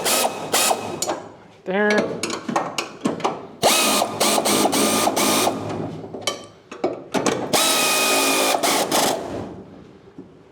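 A wrench tightens bolts on motorcycle sliders outdoors in the wind, giving repeated loud ratcheting clicks in bursts with short pauses between them.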